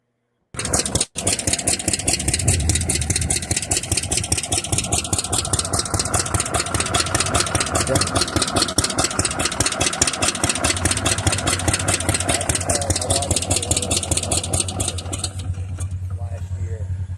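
A 1966 Arctic vintage snowmobile with a rear-mounted engine runs steadily at idle, a continuous close, rapid-pulsing drone that holds throughout with a brief dip near the start and a slight drop in level at the end.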